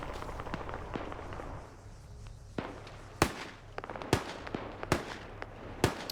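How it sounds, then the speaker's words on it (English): Grenades detonate in a player-versus-player shooter game, four sharp explosive cracks spaced about a second apart over a background of smaller pops and movement noise. "Grenades going off up here."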